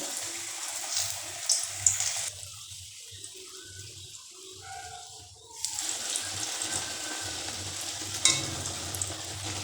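Dal puri, a flatbread stuffed with masoor lentils, frying in hot oil, giving a steady broadband sizzle that drops quieter in the middle and then swells again. A few light clinks sound from time to time, and no one speaks.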